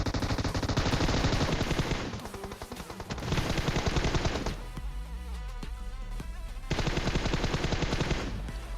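A shooter video game fills the scene with rapid automatic gunfire in long bursts, broken by a short quieter stretch of game ambience before firing resumes loudly.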